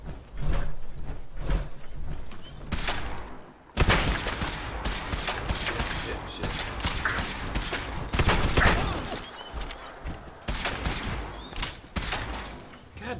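Bursts of automatic gunfire and weapon fire in a Fallout 4 firefight, loud and nearly continuous across the whole stretch, with sharp onsets and brief dips between volleys.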